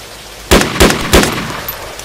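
Three loud gunshots ring out in DayZ on the Namalsk map, evenly spaced about a third of a second apart, each with a short fading echo, and nothing else is audible.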